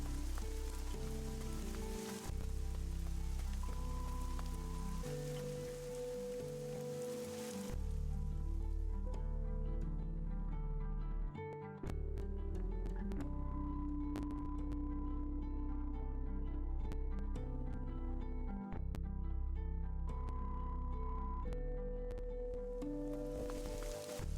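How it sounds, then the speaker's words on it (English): Rain falling in the Fall of Porcupine video game, a quiet, continuous patter layered over soft sustained music tones, with no talking. "It can't be good to walk in the rain like this."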